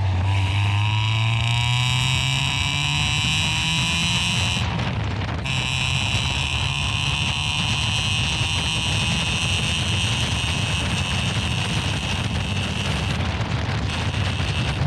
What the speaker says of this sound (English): So don't be afraid to rev it high.